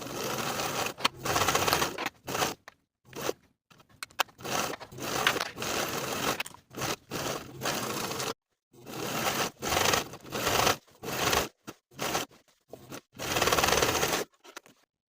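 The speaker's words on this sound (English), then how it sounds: "stitch on top of the first set of stitches once more to reinforce the seam" A sewing machine stitches over a pants crotch curve seam a second time to reinforce it, running in repeated short rattling bursts separated by brief pauses, close and clear.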